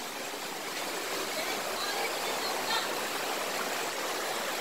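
Floodwater after heavy rain flowing through a flooded home and yard, a continuous broadband rush and gurgle that stays steady and close throughout, with no clear speech over it.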